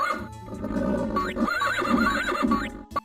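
Horse neighing in the video game Digimon World, two or three loud whinnies with rising and falling pitch, close and prominent over a steady background music bed, ending with a sharp click.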